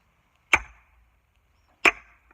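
Two sharp wooden cracks about a second apart, each with a bright ringing ping as an axe bites and splits a log for a straight axe handle, fading quickly.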